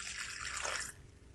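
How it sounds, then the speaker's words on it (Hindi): Water poured into a pan of broken jaggery pieces, a brief steady splashing trickle lasting about a second before stopping, close and fairly quiet. "अब 2 से 3 चम्मच हम इसमें पानी का ऐड"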